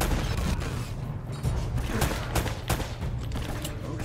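Enemy gunfire in the video game Uncharted: Drake's Fortune crackles as a dense run of sharp shots, some single and some in quick bursts, layered over a busy rumbling background with no voices.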